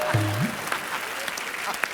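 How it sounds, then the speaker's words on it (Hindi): Scattered audience applause on a television comedy show set, moderately distant and continuous, with a short tonal sound near the start. "ये ताली बजा रहे हैं।"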